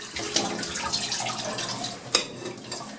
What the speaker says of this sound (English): And I'm going to let the tub drain from all of this water.